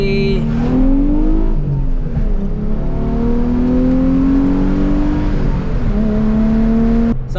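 A drift car pulls hard in first gear, its engine droning steadily with rising harmonic whine and a brief shift-like dip, loud and close from inside the cabin, no speech.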